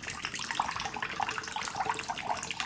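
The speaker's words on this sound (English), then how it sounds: "it just pours out so fast" Water pours steadily and fast out of a Stanley tumbler, a continuous close splashing gush with no talk.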